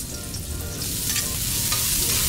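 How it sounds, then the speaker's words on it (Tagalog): Ginger sautéing in a hot pan, a steady loud sizzle that swells slightly with a few brief stirring scrapes, close and with no talking. "Gisa-gisa lang ito mga master no, hanggang sa maluto yung mga lamas na to."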